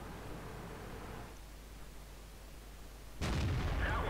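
A tank cannon fires in World of Tanks, a sudden loud broadband boom that cuts in abruptly after a few seconds of steady low rumbling engine noise.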